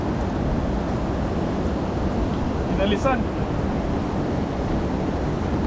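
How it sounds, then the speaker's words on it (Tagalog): Sea waves wash ashore in a constant, fairly loud surf wash, with wind across the microphone and a single word spoken briefly midway. "Nandito po ulit tayo mga Kaluko sa dagat."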